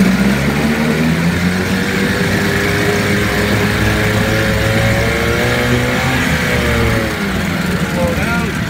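A one-owner, fully serviced Johnson 9.9 HP outboard motor, shifted into gear, is revved up. It gives a loud, steady motor drone whose pitch climbs and wavers before settling back.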